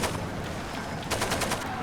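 AK rifle fire in the shooter game Far Cry 2, a dense stream of shots followed by a quick burst of sharp cracks near the end, close and loud, with no talking.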